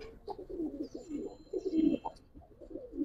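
A Giribaz pigeon of an old breed coos in soft, low, rolling phrases, close by and fairly quiet, with a faint thin whistle in the background.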